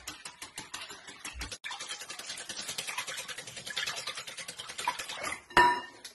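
Eggs and milk being whisked together in a bowl, a quick rapid ticking and scraping rhythm that runs steadily for several seconds, close up and fairly quiet, with a louder clatter near the end.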